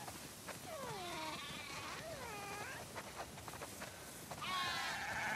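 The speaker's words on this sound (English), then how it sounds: "Wow, that's a lot of sheep." A flock of sheep on a farm, called toward the barn, bleating repeatedly with overlapping wavering cries, some near and loud, others farther back, building into a dense chorus at the end.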